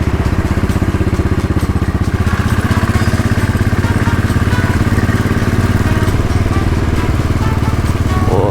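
A Royal Enfield Bullet 500 single-cylinder motorcycle thumps along at a steady, loud, close pulse on a ride circling Lake Geneva, with wind rush over the engine.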